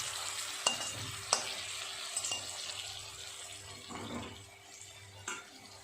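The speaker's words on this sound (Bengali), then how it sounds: "ধোকাগুলো খুব সুন্দর লাল লাল করে ভাজা হয়ে গেছে" Dhoka, spiced lentil cakes, fry in a wok of hot oil with a steady sizzle, broken by a few sharp clinks and scrapes of a utensil against the pan; no voices.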